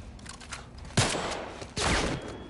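Two loud bursts of gunfire from The Last of Us Part I ring out about a second apart, sharp cracks with a lingering echoing tail, over quiet ambience and with no talking.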